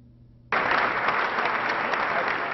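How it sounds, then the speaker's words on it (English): A crowd in a state house chamber breaks into sudden loud applause as the governor enters, and dense clapping continues steadily to the end. "Everyone stood and applauded Governor Hogan as he entered the House chamber."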